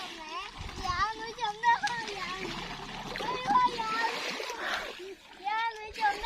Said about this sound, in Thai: ไปว่ายน้ำกับน้องรุ่งเลย